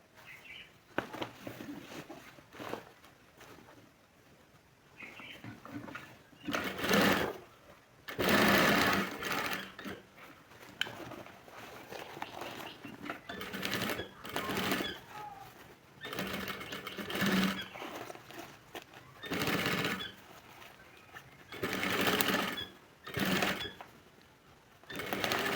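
A sewing machine stitches a new bag modelled on an old one, running in repeated short whirring bursts with quiet pauses between them, fairly close.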